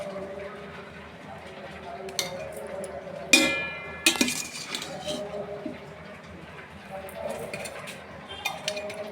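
Spoon clinks and scrapes against a pot as amla is mixed with organic jaggery and sugar, a few louder knocks standing out over quiet background noise.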